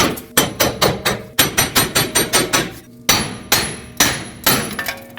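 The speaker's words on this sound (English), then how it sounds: "Now you want to use a hammer, tap this back and forth until it pops out." Sharp repeated hammer blows tap on the lower ball joint and steering knuckle of a 2005-2021 Nissan Frontier 2WD, a quick steady metallic rhythm in bursts with short pauses, close and loud.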